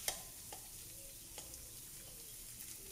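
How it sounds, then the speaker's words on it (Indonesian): A spoon stirs a potato, carrot, vermicelli and spring onion pastry filling as it fries in a pan. A faint, steady sizzle runs throughout, with light scraping clicks. "Aduk-aduk dan kita masak sebentar sampai rata"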